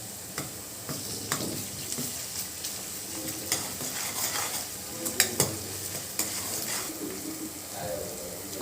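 Onions for gathi curry frying in a pan while being stirred, a steady sizzle broken by frequent scraping stir strokes, close and moderately loud with no talk.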